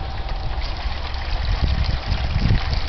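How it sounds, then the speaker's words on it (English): A toilet bowl gurgles and rushes steadily as it flushes and refills, a continuous close watery wash that swells slightly toward the end. "Oh my god, would you just flush the damn thing?"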